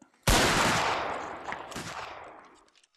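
A single loud musket volley fired by Anglo-Zulu war reenactors of the 33rd Regiment of Foot at a Rorke's Drift event outdoors, a sharp crack followed by a long rolling decay and faint echoes.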